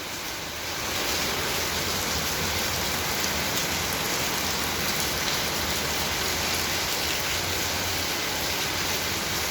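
Heavy rain pours steadily outside a house kitchen, a dense continuous roar of drops on surfaces with water running off a rooftop, loud and unbroken throughout without voices.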